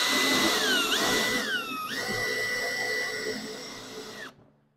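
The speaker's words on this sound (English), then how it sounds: "So I'm gonna drill a hole." A power drill whines as it bores a hole through the hard metal lid of a box for a Faraday cage, pitch dipping under load and rising again before cutting off abruptly.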